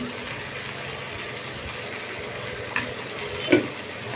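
Soybean chunks sizzling as they go into a hot pan for a potato and papaya curry, a steady close frying hiss with a couple of sharp pops and stirring clinks, no talk.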